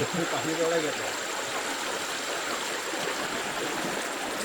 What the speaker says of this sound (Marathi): पाण्याचा प्रवाह तुम्ही बघू शकता